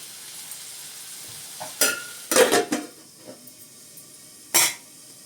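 A lid goes onto a pot of cooking chayote and toor dal, with a few sharp metallic clatters and scrapes in quick bursts over a quiet kitchen background.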